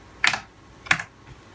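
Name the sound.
typing an IP address on a computer keyboard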